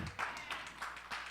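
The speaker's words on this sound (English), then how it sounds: "Thank you for standing there clapping." A church congregation claps for a pastor, a handful of soft, evenly spaced claps heard faintly in a quiet room.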